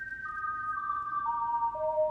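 Pure synthesized tones made by graphic elements placed on a vertical grid, heard as a sequence of steady electronic pitches that step downward one after another, clean and sustained over a soft low background hum.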